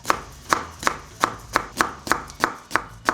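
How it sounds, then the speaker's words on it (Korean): A knife chops pickled cucumber into thin slices on a cutting board, ten or so crisp, evenly spaced taps close up in a steady rhythm, with no talking. "오이를 송송송송 썰어주세요."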